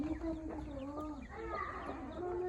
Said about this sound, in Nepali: कुखुरा हेर्नु साथीहरू यस्तो धेरै छ लोकल कुखुरा